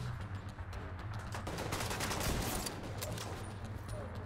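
Rapid gunfire from The Division 2 shooter game crackles as a sustained volley, dense and loud throughout with no talk over it.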